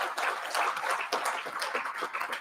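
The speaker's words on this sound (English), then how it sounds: "Please join me with a hearty hand clap to invite Professor Omaswa to" Audience applause in a plenary conference hall, dense steady hand clapping from many people, moderately loud and sustained throughout without talk.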